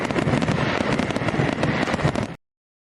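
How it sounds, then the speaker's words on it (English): Fireworks crackle and pop in a dense, continuous barrage of bursts, loud and close, with no voices, stopping abruptly after about two and a half seconds. "Here's my fireworks."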